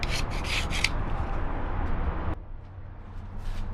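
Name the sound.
putty knife scraping mud and grime off frame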